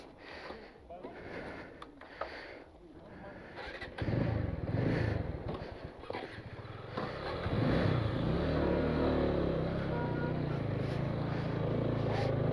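A motorcycle on a solo trip from Pang to Leh in Ladakh, its engine rumbling close and growing louder and steadier from the middle onward, with road and wind noise and speech in the earlier part.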